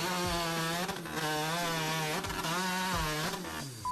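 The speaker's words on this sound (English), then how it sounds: "This is what world record-breaking chainsaw work looks like." A chainsaw cuts through wood at world-record speed, its engine whining loudly and steadily at close range, pitch rising and dropping as the blade bites in and out of the cuts.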